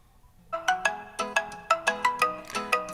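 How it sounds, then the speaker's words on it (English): A Poco F7 Ultra smartphone rings during a test call on AT&T. A rhythmic electronic ringtone starts after a short quiet moment and repeats as a series of bright, evenly spaced tonal pulses, clear and close with nothing else audible. "Let's do a little test phone call."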